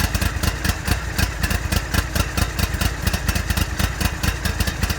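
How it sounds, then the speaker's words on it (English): A zero turn riding mower's cold engine running with the choke on just after starting, a loud, close, steady idle with a fast, regular pulsing beat and no talking. "So we'll start the engine."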